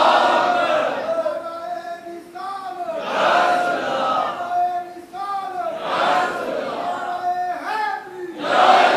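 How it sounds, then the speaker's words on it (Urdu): A crowd at a religious rally chants slogans in unison, call-and-response bursts rising and falling in a steady rhythm over about nine seconds, loud and close with many voices blending together. "حضور کے نعرے لگا رہے ہو"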